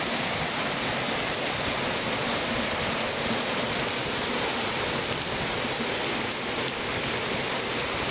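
Heavy rain pours down in Tianguá, Ceará, as a dense, constant roar of rainfall that fills the whole stretch without pause.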